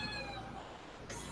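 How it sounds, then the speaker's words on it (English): A cat meows in a kitchen, a short, fairly faint tonal cry with a couple of rising harmonics, followed by a brief rustle; the sound is soft and somewhat distant rather than close to the microphone. "It's weird that you can hear her meowing"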